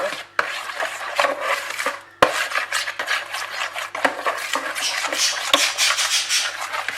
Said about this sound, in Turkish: bu şekilde karıştırma kabında da güzelce karıştırdım